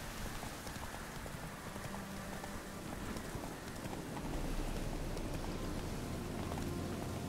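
Horse hooves clip-clop in the rain in the video game The Witcher 3, a steady rhythmic trot over an even patter of rainfall that grows slightly louder midway, with no talking.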